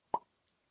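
A mouth imitates a wine bottle cork popping: one sharp, loud pop with a brief tail. A fainter click follows, and another pop begins at the very end, all in otherwise quiet surroundings.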